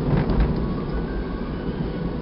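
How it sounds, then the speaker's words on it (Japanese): Heavy rain pours down in a loud, dense rush of noise with low rumbling beneath it, as if heard from inside a moving vehicle, continuous for the whole stretch. "すごい雨降 ってきた。"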